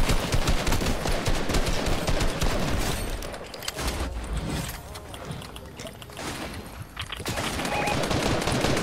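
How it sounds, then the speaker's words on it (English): Video game gunfire from a lever action shotgun crackles in dense bursts over a loud, busy game soundscape, fading briefly midway before the noisy shooting picks up again. "somebody just shot me with a new shotgun"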